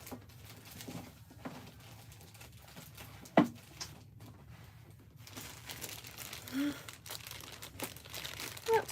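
Paper road maps crinkle and rustle as they are folded and pushed into a bag, a quiet, uneven crumpling with a couple of sharper crackles close by.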